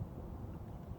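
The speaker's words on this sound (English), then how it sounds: "Sorry for the wind, man." Low wind rumble buffets a microphone outdoors, a steady close-up blowing sound filling one brief second.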